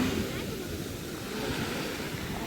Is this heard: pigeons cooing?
no